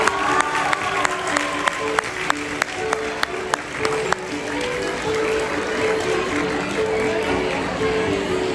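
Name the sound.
audience applause welcoming a guest at a student theater event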